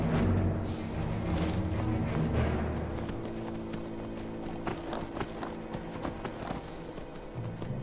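Horse hooves clip-clop steadily in Skyrim, an armored mount trotting at a regular rhythm, close and fairly loud over a low game ambience and music bed.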